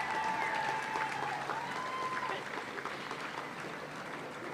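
A crowd at a welcome-home celebration for Queensland Olympians and Paralympians claps and cheers steadily, with dense, loud applause that eases slightly toward the end.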